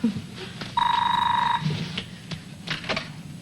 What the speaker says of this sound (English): I think this is where the phone rings and I wake up.